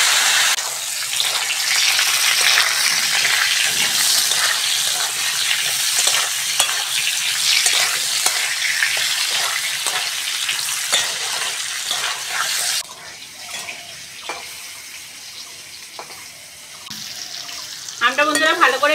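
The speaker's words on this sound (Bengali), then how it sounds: "আমটা বন্ধুরা ভালো করে ভেজে নিয়েছি" Chopped raw mango with turmeric and five-spice sizzles loudly in mustard oil, with stirring scrapes over a steady hiss. A voice speaks partway through, and the frying quiets near the end.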